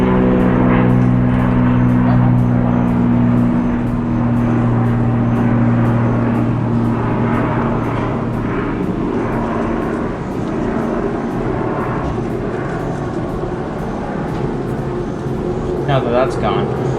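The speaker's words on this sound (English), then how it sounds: "let's wait for this plane to stop being loud and obnoxious" A plane flies overhead and makes a loud, steady engine roar that fills the whole stretch, with a low drone holding underneath and slowly easing off toward the end.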